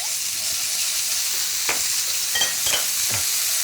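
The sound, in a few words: stir-frying thinly sliced meat in a pan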